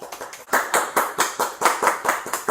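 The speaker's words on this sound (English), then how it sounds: "So let's clap it up for episode 8" A small group claps along on a TV talk show, the claps falling in a regular rhythmic beat of crisp, close strikes repeated steadily for a couple of seconds.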